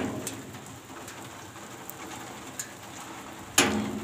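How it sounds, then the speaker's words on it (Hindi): Steady rain falls outdoors over farmland planted with wheat, a soft continuous hiss with occasional drips and a sharp splash near the end, alongside pigeon-like cooing. "बारिशें हो रही हैं"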